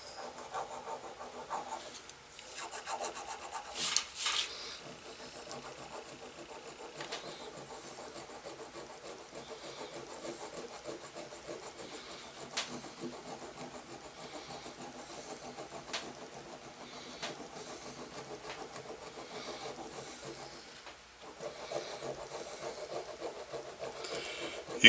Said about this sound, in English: I have to go in that with a round file